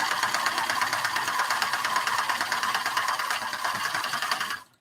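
A sewing machine fitted with a denim needle stitches pattern weights, a fast, steady mechanical whir with an even rattling pulse that cuts off abruptly at the end.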